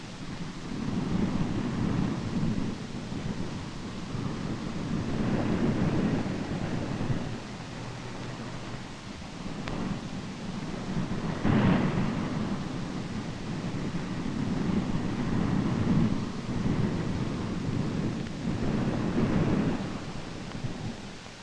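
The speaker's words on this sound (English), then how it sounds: "the seas get higher and higher, and the storm becomes a veritable blizzard" Winter storm winds and heavy seas in the northern Sea of Japan, a blizzard-force gale roaring steadily with surging, crashing waves that swell and fade in repeated gusts, loud and continuous with no voices.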